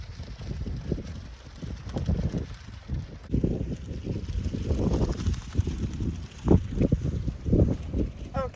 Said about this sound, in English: that was very windy